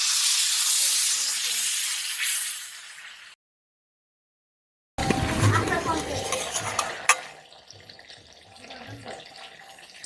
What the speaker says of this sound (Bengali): আবার একটু জল দিচ্ছি।